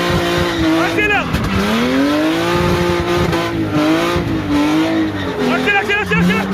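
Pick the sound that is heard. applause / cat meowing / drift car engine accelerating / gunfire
drift car engine accelerating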